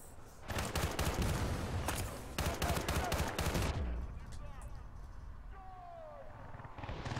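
Gunfire in Battlefield Bad Company 2 rips out in loud, rapid bursts for several seconds, then falls away to quieter rumbling and distant chirps, with a voice heard alongside.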